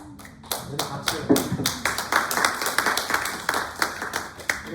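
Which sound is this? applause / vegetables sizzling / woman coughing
applause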